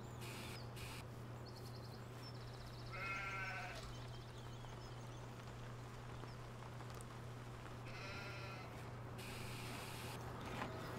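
Sheep bleat twice in Farming Simulator 17, short wavering calls standing out over a steady low hum and a faint ambient bed, with small mechanical clicks between them.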